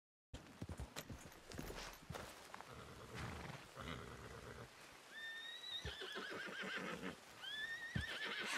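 A horse whinnies and snorts repeatedly in Red Dead Redemption 2, loud and close, with hoof clip-clops and game sounds around it.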